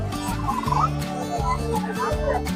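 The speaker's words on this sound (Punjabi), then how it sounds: "ਇੱਧਰ ਦੇਖੋ ਵੀ ਟਰਕੀ ਤੇ ਮੁਰਗੇ" A turkey at a fair gobbles loudly and steadily nearby, its rapid rattling calls repeating in bursts with no pauses.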